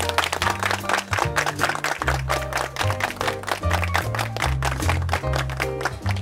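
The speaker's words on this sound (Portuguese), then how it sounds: "a salva de palmas para esses caras aqui" People applaud bricklayers at the handover of a newly built house, with dense, sustained clapping throughout and a few loud hand claps and rhythmic beats standing out.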